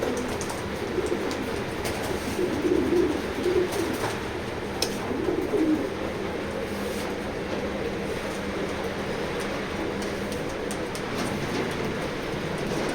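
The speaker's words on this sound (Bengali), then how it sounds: "দেখেন কবুতরগুলো কিরকম অ্যাক্টিভ" Pigeons coo in a loft, soft repeated low coos rising and falling over a steady background hum, fairly close with no talk.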